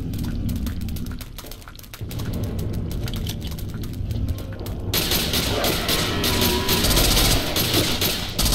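Video game gunfire, a sustained rattle of rapid shots and mechanical clatter that grows louder and denser partway through, continuous and close.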